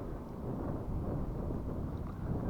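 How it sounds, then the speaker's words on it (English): Steady wind blowing outdoors at a model catapult-glider launch, a continuous low rumbling roar of gusts buffeting the microphone, loud and unbroken throughout with no talk. "That wind's picking up now."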